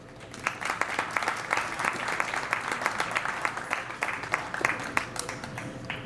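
Guests at a wedding reception give a round of applause after a toast, steady clapping from a moderate-sized crowd heard at medium distance for several seconds.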